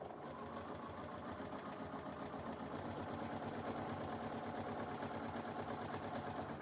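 A sewing machine runs continuously as quilt block rows are stitched together, a steady, quiet mechanical whir with a fast even rhythm and no pauses.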